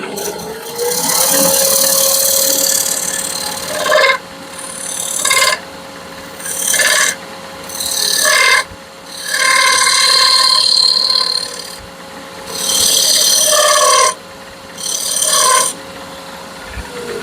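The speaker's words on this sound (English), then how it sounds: "You see how fine the shavings are that come off there." Hand tool shaving fine curls from wood while making a bourbon whiskey smoker, a series of loud, rasping scraping strokes, each lasting about a second or two, with short pauses between them, close by.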